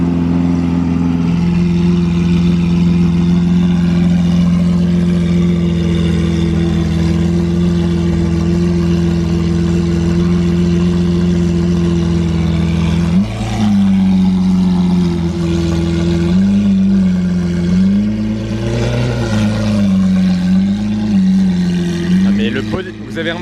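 A Ferrari 812 engine with an aftermarket exhaust rumbles steadily at idle, then revs up in several sharp bursts with a throaty exhaust note, loud and close, with talking over it.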